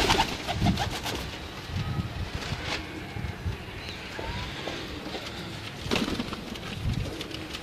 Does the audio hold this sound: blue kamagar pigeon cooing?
yes